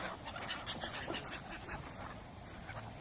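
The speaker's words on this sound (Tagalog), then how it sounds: "we're just feeding the quacks here and seagulls" Ducks and seagulls crowd a pond in Preston, Lancashire while being fed, a faint, busy mix of overlapping quacks and gull calls at a distance, continuous throughout.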